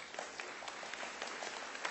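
Audience applause at a spring commencement ceremony, a steady wash of many hands clapping at a low, distant level for a couple of seconds.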